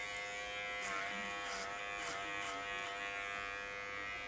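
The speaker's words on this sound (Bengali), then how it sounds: "কীভাবে মেশিন দিয়ে হেয়ার কাট করতে হয়" Electric hair clipper buzzing steadily while cutting a zero fade haircut, a continuous close-up drone with slight shifts in pitch as the blade moves over the head, no talking.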